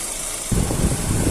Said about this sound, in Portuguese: quando dá uma aceleradinha, ele tá dando tipo como se fosse uma batidinha de pino de pistão aí